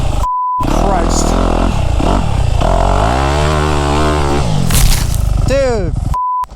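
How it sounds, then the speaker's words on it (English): A brand-new 2024 KTM 250 SX two-stroke dirt bike engine buzzes and revs loudly close by, its pitch climbing and falling through several sweeps, with brief beeps at the start and end and a voice talking over it. "Oudi has a brand new 2024 KTM 250 SX"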